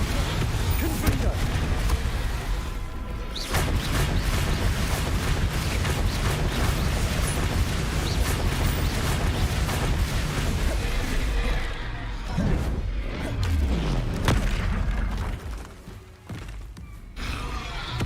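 Fiery Confringo spell blasts in Hogwarts Legacy combat, a dense, loud run of booms and rumbling impacts that carries on almost without a break, with a brief dip near the end and a voice speaking at times underneath.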